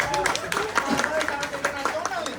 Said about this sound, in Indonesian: Tepuk tangan dulu dong buat itu